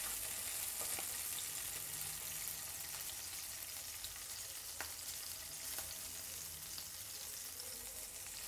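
Green chilies frying in a pan over a medium flame give a steady, close, even sizzle with faint pops and crackles throughout, with no talking.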